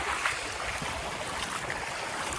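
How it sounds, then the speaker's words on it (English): A dinghy's outboard motor, recently troubled by carburetor issues from bad gas, running on warm water: a steady close drone blended with rushing water and wind noise, continuous with no talk. "The dinghy's running good."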